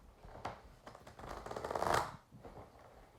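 Playing cards being riffle-shuffled close by, a few quick fluttering bursts building into a longer dense riffle before tapering off, fairly quiet.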